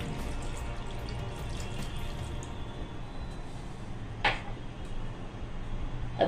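Water pours from a glass into a pan holding chicken breast pieces with salt and ginger-garlic paste, a soft continuous splashing trickle with a brief louder splash near the end.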